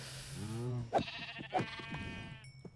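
Sheep bleating in the Minecraft video game: a long wavering bleat followed by two shorter bleats, clear and close, with faint game sounds in between.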